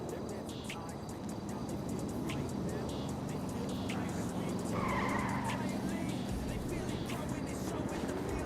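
Car skidding with screeching tires in GTA roleplay, a continuous loud engine roar with squeal tones rising midway, over busy game noise and a voice talking.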